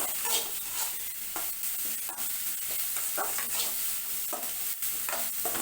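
Onions sautéing in a pan for a quick vegetable poriyal, with continuous sizzling and repeated scraping stirs of a spoon against the pan, close and steady throughout with no talking.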